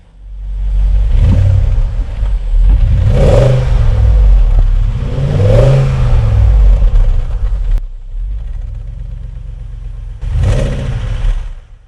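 BMW X5 4.6is with its stock exhaust, revved repeatedly: a deep engine rumble swells into three loud rising-and-falling revs and settles to idle between them, close and with no talking.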